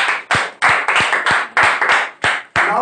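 An audience at a year-end class celebration at a spoken English centre claps hands in a quick, steady rhythm, about nine sharp, loud claps close by.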